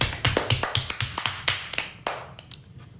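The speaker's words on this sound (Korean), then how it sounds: "박수." A quick run of sharp, light hand claps comes close in a quiet room. The claps are irregular and thin out toward the end.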